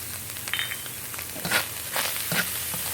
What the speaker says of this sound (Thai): ผมใส่ตะไคร้ ซอยยาวๆนะครับ เอาผัดไปกับนกนี่เลยครับ